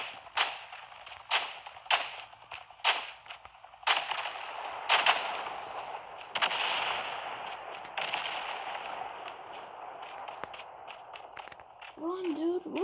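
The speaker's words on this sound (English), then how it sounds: "I heard gunshots." Gunfire in a video game: a run of sharp, loud shots spaced roughly a second apart, then a denser, noisy stretch of combat sound with a few more cracks, ending with a rising whine.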